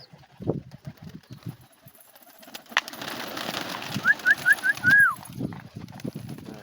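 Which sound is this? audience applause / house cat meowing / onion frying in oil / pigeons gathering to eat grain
pigeons gathering to eat grain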